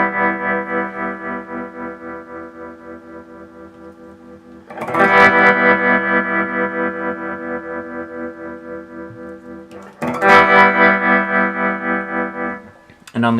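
Sustained guitar chords pass through an Electro Harmonix Stereo Pulsar tremolo pedal, the volume pulsing in a steady rapid wobble, with two fresh strums re-articulating the chord along the way.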